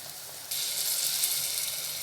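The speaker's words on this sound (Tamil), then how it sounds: "இப்போ புளி தண்ணியை சேர்த்துடலாம்." Tamarind water poured into hot oil with fried masala for a South Indian anchovy fish curry, a quiet background hiss that suddenly jumps to a loud, bright, sustained sizzle and crackle, heard alone.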